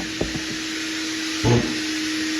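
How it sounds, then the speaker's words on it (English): A shop vacuum hooked to a sanding block with 180-grit paper hums steadily through the whole stretch, with a couple of soft knocks near the start and a brief louder thump partway through. "Turn the vacuum on."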